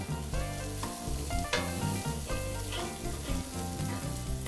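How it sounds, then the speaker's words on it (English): Bacon frying in a pan, rendering its fat, a dense continuous sizzle close up with occasional pops and stirring, no talking. "I want to just render that fat from the meat"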